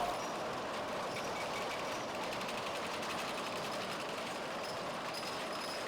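A jute softening machine with fluted rollers runs with a continuous, faint mechanical rumble and a fast repetitive clatter, steady from start to finish.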